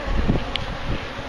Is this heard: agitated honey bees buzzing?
yes